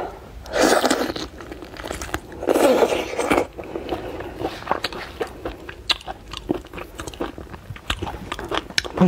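Close-up crunching and chewing of raw lobster meat, with two loud biting crunches followed by softer wet chewing and small clicks, no talking.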